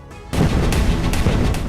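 A sudden loud blast from a rocket attack in Israel bursts in after a short quiet start, followed by rumbling, crackling aftermath with a few sharper pops.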